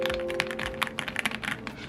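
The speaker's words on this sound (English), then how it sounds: "This is the Ala F75 Pro. I just kept seeing it on TikTok. I like how it sounds" Rapid typing on an Aula F75 Pro mechanical keyboard, with dense, crisp clacky keystrokes close up and a faint steady hum underneath.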